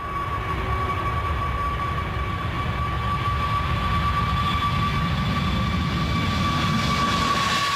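An Airbus A380 jet roars steadily on its takeoff run during a tail strike test, its engines producing a continuous loud drone with a high whine running throughout.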